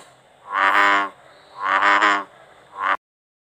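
Three deep, resonant American bullfrog croaks, two long and one short, sound close and loud, each a drawn-out groaning, cow-like call separated by short pauses.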